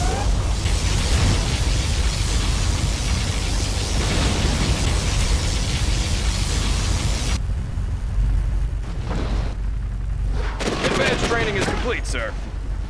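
Particle cannon blast in the strategy game Command & Conquer Generals, a loud sustained roar of crackling, booming energy and gunfire-like bursts that fills the clip, dropping off partway through into scattered crackles and pops.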